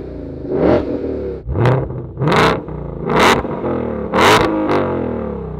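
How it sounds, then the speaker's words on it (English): A supercharged V8 in a 2020 Shelby GT500 revs repeatedly in track exhaust mode, five or six loud rising blips of exhaust roar separated by short idling pauses, close and aggressive. "turn on loud mode or track exhaust mode. Let's give it a few revs."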